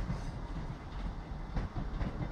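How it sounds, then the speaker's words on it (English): A Southern Railway Class 455/8 electric multiple unit, 455813, running through Guildford station on a test run, with a loud close rumble and a steady rhythmic clatter of wheels over rail joints. "This is just testing itself out on the tracks instead. Class 455/8. This is 455813, Southern Railway."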